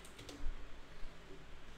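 Soft typing on a computer keyboard, a few quiet clicking keystrokes in uneven rhythm, close but faint, with no talking over them.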